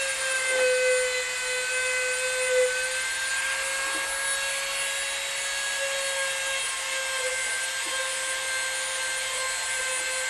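Dremel rotary tool grinding flashing off a figure, a continuous high whine held steady at close range with slight pitch wobbles and a few brief contact scrapes.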